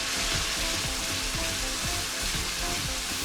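A whole tin of tomatoes sizzles and fries in a curry pan with fenugreek and chicken, giving a steady, dense crackling hiss close up, with no talk over it.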